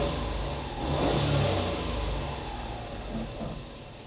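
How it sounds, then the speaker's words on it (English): A 1997 Honda Acty SDX 4WD engine is revved, its pitch rising to a peak and then easing back, heard steady and fairly close with no talking. "I'm gonna give it some gas here, and you can see how it runs."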